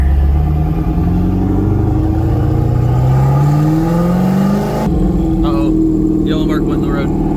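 A 500-horsepower LS V8-swapped Porsche 928 accelerates hard in second gear, its loud, close engine roar climbing steadily in pitch and then settling briefly before pulling on, with a voice faintly underneath near the end.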